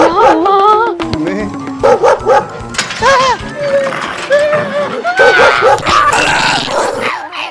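A dog barking and yipping nearby in a series of loud, sharp, high-pitched barks with whimpering tones, mixed with people talking.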